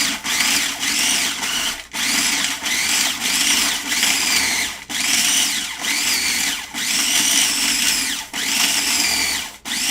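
A food processor grinds carnivore cake ingredients in an overfilled bowl, making a loud, close, continuous motor whir. The grind strains and dips briefly every couple of seconds, with no talking.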